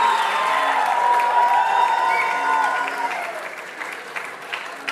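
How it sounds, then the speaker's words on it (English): Crowd applause at a women's 10m air rifle shooting final at a World Cup in Bhopal, India: a loud, steady wash of clapping and cheering that gradually thins and fades toward the end. "The crowd is excited as Ramita takes in the 3rd position."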